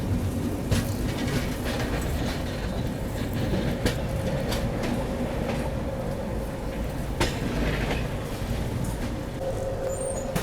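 Kolkata Dibrugarh Express rolling on rails just out of Kolkata, a steady loud rumble with clickety-clack wheel beats and occasional sharper rail clanks throughout.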